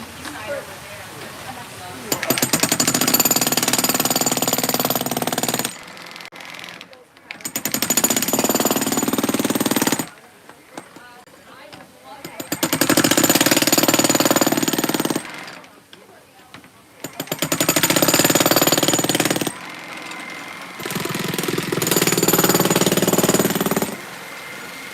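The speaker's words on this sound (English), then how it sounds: "I haven't checked this jackhammer out yet" A Milwaukee jackhammer at the Milwaukee Pipeline 2024 event runs in several loud bursts of a few seconds each, separated by short quieter gaps, with people talking during the pauses.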